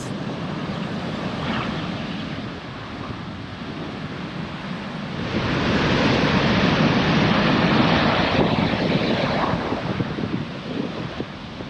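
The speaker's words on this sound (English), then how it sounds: "Proper waves." Ocean waves surge onto a surf beach on the Isle of Harris and Lewis, a broad roaring wash that swells louder midway and then eases, mixed with gusty wind buffeting the microphone, no voices.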